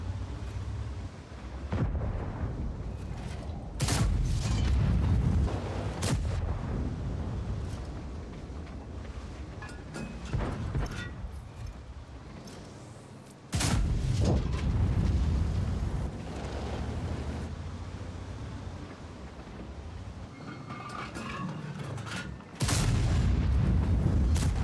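The PTZ-78 tank destroyer's gun fires in World of Tanks. Several heavy, booming shots crack out loud and close, each followed by a long rumbling tail, with engine and battle noise rolling between them.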